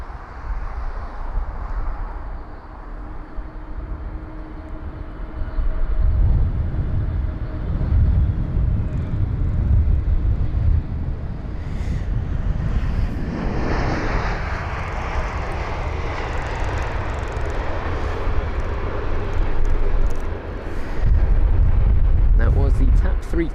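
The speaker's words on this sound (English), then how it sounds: "the aircraft which I can hear starting its engines is this one here, this United 777" A United Boeing 777 starting its engines at London Heathrow, a steady low rumble and rising whine that swells in waves, heard from some distance with other airport background noise.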